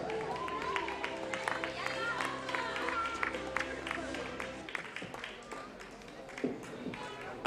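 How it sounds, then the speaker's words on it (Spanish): Crowd applause fills a stadium after the women's 3000 m race at a Spanish youth athletics championship in Ciudad Real, a steady wash of clapping with a public-address voice heard over it. "Fuerte el aplauso, gracias."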